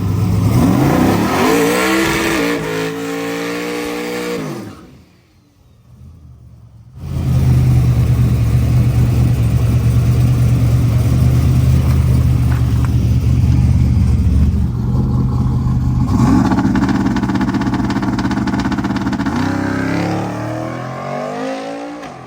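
A Camaro V8 engine under testing revs hard and accelerates, loud and close, with rising and falling engine pitch, a brief drop to near silence midway, then a sustained roaring run before the revs sweep down again.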